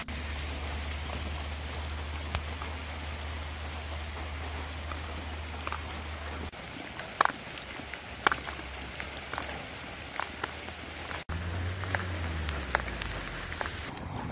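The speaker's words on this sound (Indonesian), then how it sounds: "Kita pun sempat berhenti berteduh karena hujan" Steady rain pours down at a roadside shelter in Pendopo, Empat Lawang, South Sumatra, a continuous hiss with scattered louder drops; a low engine-like hum runs underneath for the first several seconds, then fades.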